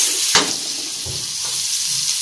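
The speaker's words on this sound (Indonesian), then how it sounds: "Kita siapkan margarin ataupun minyaknya." Margarine melts and sizzles in a hot wok as the base for hotel-style nasi goreng, a steady bright hiss with a brief sharp crackle near the start, close and loud.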